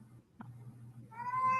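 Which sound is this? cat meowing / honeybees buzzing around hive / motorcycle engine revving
cat meowing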